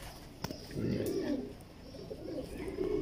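Pigeon cooing near the camera, a low soft murmur with a few repeated coos running through the three seconds, alongside faint handling noise.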